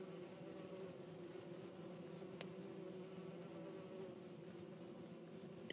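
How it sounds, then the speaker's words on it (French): Killer bees in Don't Starve buzz in a steady, faint hum that holds throughout, with a soft clicking flutter and a brief sharp tick over the drone. "Oh, les abeilles tueuses."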